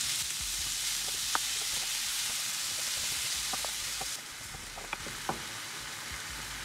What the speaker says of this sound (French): je vais mélanger le tout pour que la viande cuise de manière bien homogène